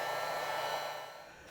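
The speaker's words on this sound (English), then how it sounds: "So you kind of need a heat gun or a hair dryer." A heat gun or hair dryer blows hot air over vinyl wrap on Triumph Tiger 800XCx motorcycle side cases, giving a steady close rushing whoosh that fades slightly toward the end.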